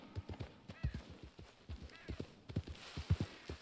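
Horse hooves clip-clop in a steady trotting rhythm while riding in Red Dead Redemption 2, with an occasional whinny and faint game ambience around them.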